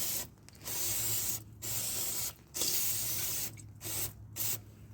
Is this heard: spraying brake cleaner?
yes